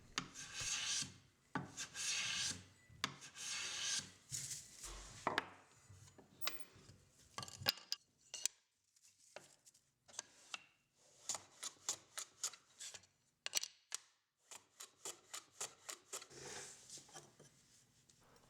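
White oak parts are planed square on a shooting board, giving repeated quiet rasping strokes in irregular bursts with short pauses between them. The strokes are faint, close and alone, with no talking.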